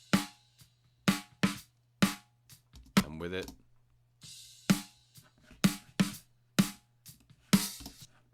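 Snare drum hits in a mixed drum track, first dry and then with a smooth bell EQ boost around the body of the drum, sounding as sharp, evenly spaced close strikes with a brief voice in the middle.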